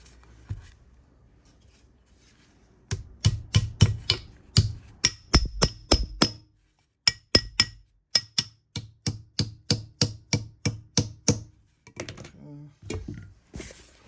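Wooden wedge being hammered into an axe handle: a long run of quick, sharp, evenly spaced taps, close and loud, with a brief pause midway and a few softer knocks at the end.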